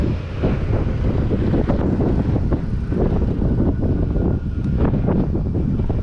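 Heavy headwind buffets the microphone while riding an ENGWE EP-2 Pro e-bike, a continuous loud low rumbling roar with gusty surges throughout and no talk.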